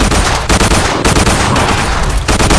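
An AKM rifle fires in a Roblox zombie survival game, loud rapid automatic bursts that run almost without a break, with two brief pauses between strings of shots.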